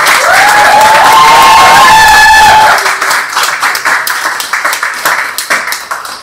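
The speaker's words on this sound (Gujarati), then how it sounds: "આપણે પણ એ આદર ખૂબ જોરદાર તાળીઓ" A Women's Day stage show audience bursts into loud applause and cheering, with a tonal musical or whistling sound over the clapping at first, then the crowd's clapping continues alone in a dense, rippling rhythm.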